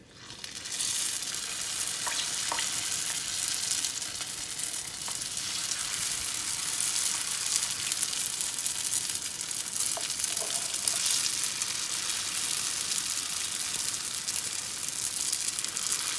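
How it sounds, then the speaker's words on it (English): Continuous crackling sizzle of cream cheese wontons deep frying in hot oil, steady and close, lasting throughout with a few faint clinks and no talking. "So since we're frying the wontons, it looks like it's ready to go."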